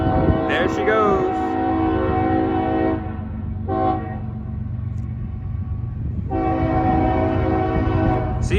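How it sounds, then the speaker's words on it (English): A CSX freight train street-running through Tarboro sounds its horn in long, loud, sustained chords, pausing briefly and then blaring again, over the low rumble of the moving train, with someone talking nearby. "Street running train through Tarboro."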